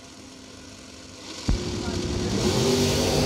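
Drag racing cars launching off the starting line at a bracket race, an engine roar swelling sharply after a sudden thump and growing steadily louder, with an announcer talking over it.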